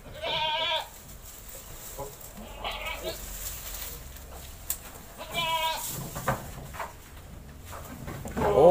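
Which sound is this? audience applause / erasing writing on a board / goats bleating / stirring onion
goats bleating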